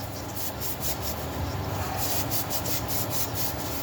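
Rust being scrubbed off the cylinder of a Stihl MS460 chainsaw: a steady, close, continuous abrasive rubbing that runs unbroken throughout, with faint rhythmic strokes and no talking.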